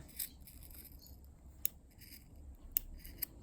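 Scissors cut the fabric of a sports bra in a few quiet, close snips, with soft rustling of cloth between them.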